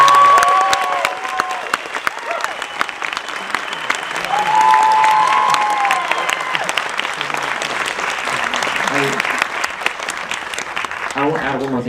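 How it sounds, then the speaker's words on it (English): Audience applause with some cheering after a Q&A panel with the creators of an animated series, dense sustained clapping at close range with swells and scattered whoops, plus a brief voice near the start. "I'd like to give them a big round of applause, everybody."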